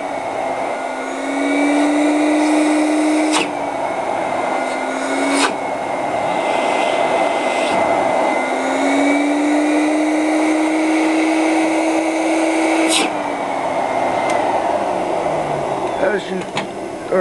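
An Advance Hydro-Vac wet dry vacuum runs with a loud, steady motor whine that rises and drops as it cycles, with brief clicks and someone talking over it.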